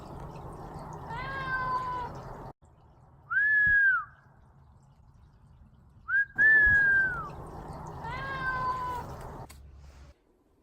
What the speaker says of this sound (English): heard the sad meow in the ravine